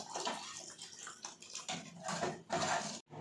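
Water pours into tempered dal and tomato for a simple rasam, a continuous close splashing stream that stops abruptly near the end.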